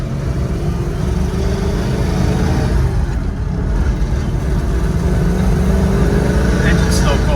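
Ford Montego long-roof wagon with a 351 Cleveland V8 and 4-speed manual, engine still cold, a steady low rumble heard from inside the car while driving, with a person talking over it.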